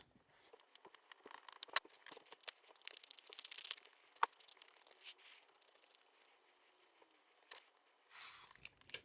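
Scissors snipping through paper to cut out the inside of a pop-up card frame, quiet crisp crinkly clips and rustles in irregular bursts, with no talking.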